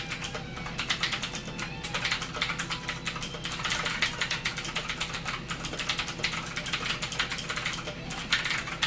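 Rapid typing on an APT Hall Effect mechanical keyboard, a steady stream of soft, dense keystroke clacks filling the whole stretch at close range, with no voices.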